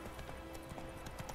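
Horse hooves clip-clopping in The Witcher 3 video game, a brief run of even, moderately quiet hoofbeats over steady game background sound.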